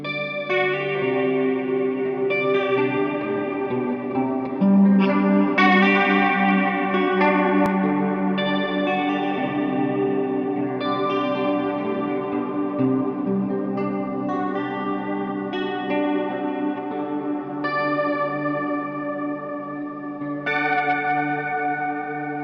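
Sustained electric guitar chords in an empty school hallway, drenched in lush, washy reverb and modulation, with notes ringing into each other continuously at steady volume, no voices.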